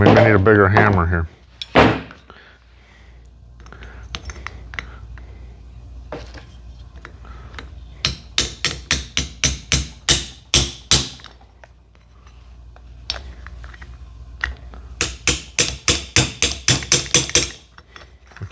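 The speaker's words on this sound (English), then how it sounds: "maybe I need a bigger hammer here" Sharp metallic hammer blows ring out in fast rhythmic bursts, loud and close, with quieter scraping and handling noises between the strikes, as a handmade spindle seal puller is worked.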